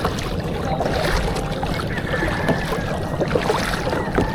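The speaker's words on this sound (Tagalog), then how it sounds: "Kusog itong hangin." Strong night wind buffeting outdoors during rain on a kayak fishing trip, a loud continuous roar with gusty rumbling and some water-like splashing.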